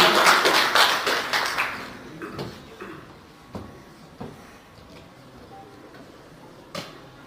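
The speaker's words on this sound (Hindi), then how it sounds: "बहुत जोर तालियों से स्वागत कीजिए माननीय पुरुषोत्तम कौशिक जी का" Applause from the audience at an astrology conference welcomes an honoured guest, a loud burst of clapping that quickly thins into a few scattered claps and taps before fading out.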